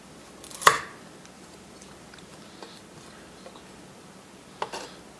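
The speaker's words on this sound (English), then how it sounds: "you're just going to cut the veggies up into small individual sections, and they'll come out in these nice little strips" A knife cuts pepper and carrots into julienne strips on a board: one sharp, crisp chop near the start, then faint scattered taps and a second clear chop near the end, quiet between.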